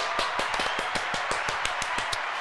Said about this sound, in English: let's all clap for the girl who probably, ain't as happy.